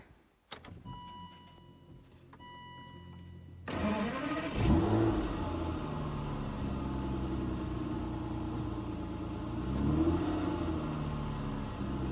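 An Aston Martin DB9 engine cranks and catches with a loud flare, then settles into a steady idle that swells again with a brief rev, after a few faint interior clicks and electronic chimes beforehand.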